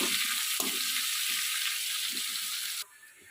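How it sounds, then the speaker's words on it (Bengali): Sliced onions fry in a pan for a dense, steady, close sizzle that runs without pause, with faint stirring scrapes underneath and a change in texture near the end. "পিঁয়াজটা ভাজা ভাজা করে নেবো"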